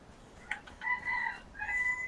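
A rooster crows in the video game Conan Exiles, a fairly close call heard in two drawn-out bursts over soft background hiss.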